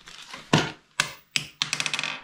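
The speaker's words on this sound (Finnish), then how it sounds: "10 senttiä tipahti siitä." A coin drops and bounces with several bright metallic clinks, the final bounces rattling quickly into a rapid spinning chatter.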